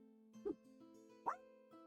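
A dog that has just come home gives two short, high yips, faint and slightly distant, in an otherwise quiet room.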